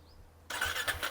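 A Guerrilla 450 motorcycle engine cranks and catches after a quiet moment, then revs roughly and loudly up close.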